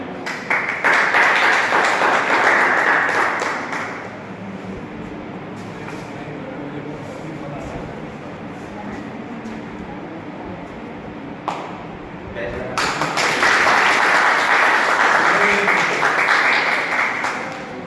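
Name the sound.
audience applause welcoming chief guest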